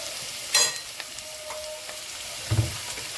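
Ginger paste frying in a hot pan with a soft, steady sizzle, broken by a couple of sharp clinks and stirring scrapes, close by and without talk.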